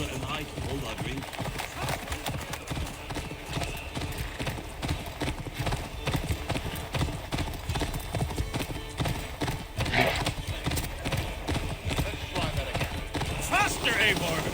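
A horse gallops in Assassin's Creed Valhalla with a fast, steady drumming of hoofbeats that carries on throughout, under voices and background score.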